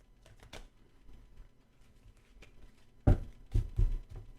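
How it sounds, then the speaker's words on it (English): Quiet rustling of cards handled at first, then a few loud riffling bursts near the end as a large deck is shuffled close by. "I can possibly shuffle this great big deck"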